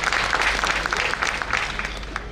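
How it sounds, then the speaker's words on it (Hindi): Audience applause at a political speech in Jharsuguda, Odisha, a dense, steady wash of clapping from a large crowd that holds at an even level throughout with no voices above it. "तालियां तो हमें बजानी चाहिए झरसुगुड़ा के लिए और आप लोगों के लिए"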